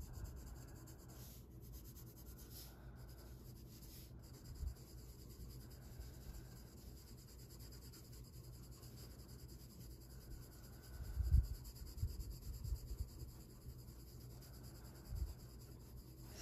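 Colored pencil, worn to a flat edge, shading softly across paper in quiet, steady rubbing strokes with a few brief louder scrapes, faint and close with no talking.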